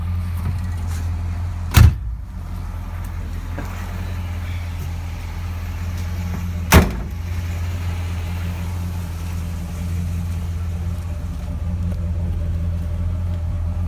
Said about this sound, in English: You hear how it idles out the tailpipes.